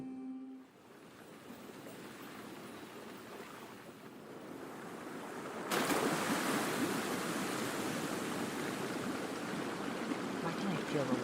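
Flowing water in the Genshin Impact video game, a soft continuous wash of stream and surf that steps up abruptly to a louder rushing torrent partway through, fairly quiet overall.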